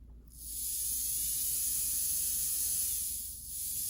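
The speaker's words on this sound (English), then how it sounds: "This is easily the best that this motor has ever run." A rewound Athearn model train motor runs free after a drop of oil, giving a steady, high-pitched whirring hiss that holds nearly constant for several seconds after a brief quiet start, with a slight dip near the end.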